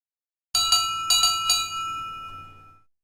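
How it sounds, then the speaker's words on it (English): Toby the tram engine's bell from a Thomas and Friends engine-repair game rings in four or five quick, bright metallic strikes, each leaving a shimmering ring that fades away over about two seconds, heard alone. "Toby's bell is broken."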